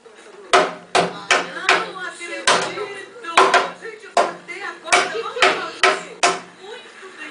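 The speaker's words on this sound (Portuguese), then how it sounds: "Bate com o martelo" A child strikes a toy tool box with a toy hammer, giving about a dozen sharp, close knocks in an uneven rhythm while an adult talks encouragingly between the hits.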